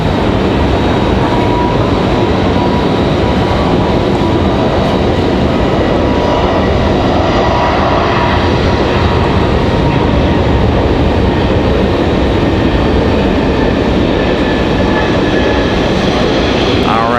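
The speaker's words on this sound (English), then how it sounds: "There's our MD-11." An MD-11 jet at Raleigh-Durham International Airport produces a loud, steady, broadband roar that fills the whole stretch without a break.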